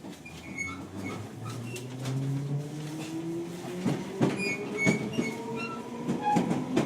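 A Swiss train rolls along with a steady low rumble, rising squealing wheel tones and rhythmic clickety-clack of rail joints, heard from inside the carriage.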